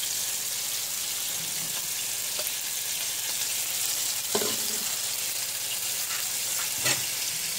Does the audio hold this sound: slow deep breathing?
no